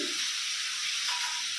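A spice paste of Kashmiri chili powder and turmeric sizzles in hot oil as it is sautéed in a pan. The hiss is bright, close and steady, with no talking.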